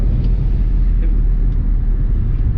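A steady, loud, low engine rumble from inside a 1966 Ford Mustang restomod with a 302 V8 as it accelerates, droning continuously without letup.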